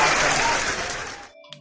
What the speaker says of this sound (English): Let me also give y'all a round of applause.